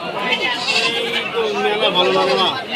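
Several goats bleat in wavering, overlapping cries close by at a livestock market, with people talking over them throughout.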